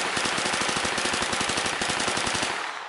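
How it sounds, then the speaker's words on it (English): Rapid automatic-sounding burst of rifle shots from bump firing a semi-automatic rifle with aftermarket upgrades, a dense steady rattle of closely spaced reports, loud and close for about three seconds before cutting off. "Also, bump fire."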